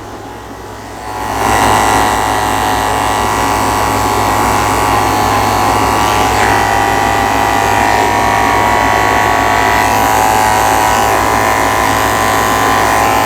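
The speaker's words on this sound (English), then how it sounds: "Shaving the pads of his feet out with a 30 blade." Electric clippers fitted with a 30 blade buzz steadily as they shave the paw pads of an elderly Golden Retriever, starting abruptly after a quiet moment and then holding a loud, even motor whine close by.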